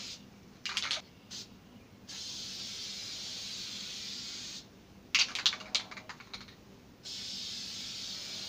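Duplicolor spray paint can misting a primed guitar body, hissing in bursts of a couple of seconds separated by short pauses and rattly clicks, close and fairly loud with no talking.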